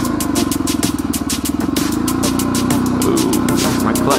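A motorcycle with a newly fitted clutch lever idles and runs steadily nearby, its engine throbbing with rapid repeating pulses and some mechanical clatter throughout.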